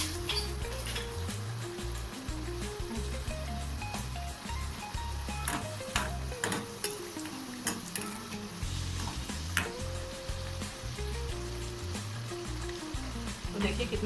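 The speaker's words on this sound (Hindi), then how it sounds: "अब तलते हैं पूरी को। तो चलिए अब ऑयल गरम हो गया है" Puris or kachori deep-frying in hot oil, a steady close sizzle and bubbling throughout, with intermittent clicks and taps of a utensil and music playing underneath.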